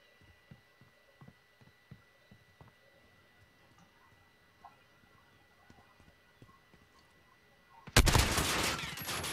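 Gunfire bursts from a video game match, heard as a burst of loud, dense shots that erupts suddenly near the end after a stretch of faint scattered clicks and taps.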